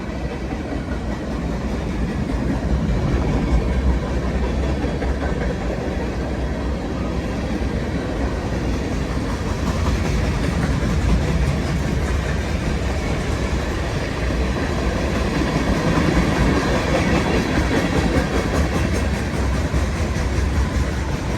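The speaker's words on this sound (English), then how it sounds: "So westbound Burlington Northern Santa Fe Railway manifest." A westbound BNSF freight manifest train passes the Hinsdale, Illinois depot, a loud continuous rumble and rhythmic clatter of freight cars rolling by close up.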